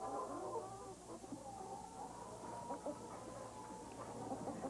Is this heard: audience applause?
no